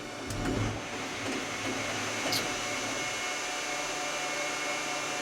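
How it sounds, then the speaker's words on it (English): A hydraulic grapple machine runs while the grapple is positioned by joystick, giving a steady whirring hydraulic hum with a few soft low knocks near the start, fairly quiet and with no voices. "By pushing the buttons on the left joystick, we are positioning the grapple either out"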